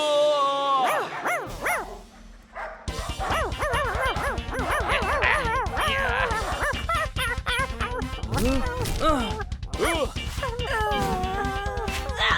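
A cartoon dog yaps and barks among lively animated voices, with a busy, continuous soundtrack throughout.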